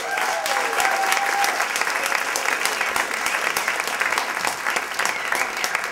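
Sustained applause from an audience at a high school pop concert, dense clapping throughout, with a brief whistle early on.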